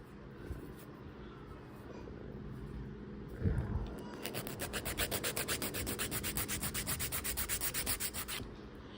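An electric nail file buffs and shapes sculpted acrylic nails built up with clear acrylic over colored or glitter acrylic, a steady rhythmic whirring and rasping that starts midway and runs close and continuous to the end.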